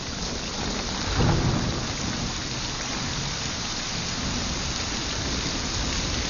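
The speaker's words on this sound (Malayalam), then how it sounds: "അതിവിടെ നല്ല മഴ, ഒന്നും കേൾക്കുന്നില്ല" Heavy, steady rain pours down in a dense hiss, with a low rumble of thunder swelling briefly near the start before fading back into the downpour.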